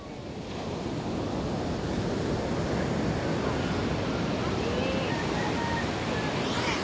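Ocean waves wash continuously onto the shore in a steady, loud roar mixed with wind buffeting the microphone, with no break throughout.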